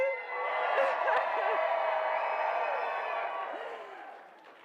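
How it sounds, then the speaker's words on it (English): Election night crowd at a Nova Scotia PC victory party cheering and whooping loudly, a dense sustained roar with shouts on top that slowly fades toward the end. "Let's cheer for Kendra so she can hear us in Cape Breton."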